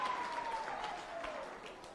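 Applause from the audience at a parliamentary committee public hearing, a short, fairly faint patter of clapping with a steady tone running beneath it.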